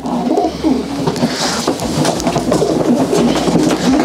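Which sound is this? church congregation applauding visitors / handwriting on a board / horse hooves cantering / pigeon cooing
pigeon cooing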